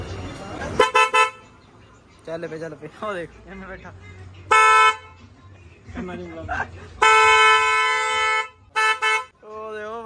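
A car horn blares in several short and long honks, loud and close, with voices talking between and over the blasts.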